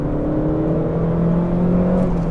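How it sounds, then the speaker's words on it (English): A Renault Clio 197 RS hot hatch revs hard through a second-gear pull, its engine producing a sustained, close, loud whirring drone that holds steady for the whole stretch, with no voices over it. "let me just do a second gear pull. You can hear it."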